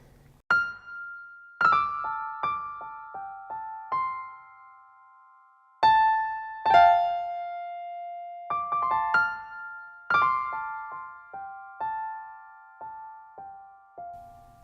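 Solo piano playing the gentle melodic intro of a song, single notes and light chords struck one after another with ringing decay and short pauses between phrases.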